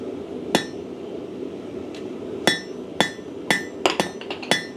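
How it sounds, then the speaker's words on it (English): Hammer blows ring on hot steel at a blacksmith's anvil while forging a bulldog-shaped bottle opener, about eight sharp metallic strikes spaced unevenly with a quick cluster near the end, loud and close. "Give it some big heavy blows here."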